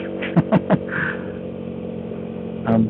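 A tweaked 50cc bike engine drones steadily while being ridden, with a few short sharp blips near the start and a brief louder rise near the end.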